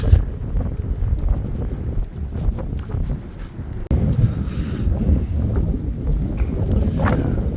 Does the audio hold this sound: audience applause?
no